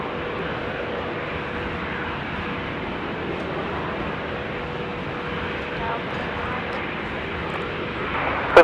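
A fixed-wing airplane taking off from runway 16 right at Sydney Airport gives a steady, broad engine roar that holds even throughout, with a brief sharp bump near the end.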